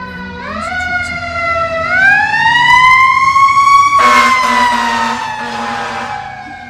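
A fire truck siren wails loudly and steadily, rising in pitch, then a deeper horn-like blast joins in at the peak as the vehicle passes close by on a street.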